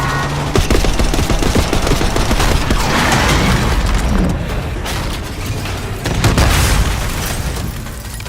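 Gunfire in the Call of Duty Black Ops 6 video game: dense, loud automatic bursts and booming impacts fire nearly without pause throughout.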